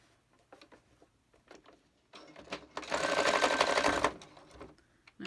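Sewing machine stitching a fabric face mask with elastic, scattered soft handling clicks and taps first, then a steady loud whirring run of stitching lasting about a second and a half before stopping.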